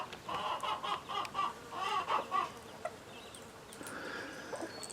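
Chicks in a chicken coop, one all black and one black and white, giving a run of soft high peeps and chirps in quick bursts, fairly close, over a steady background hum, with no talking.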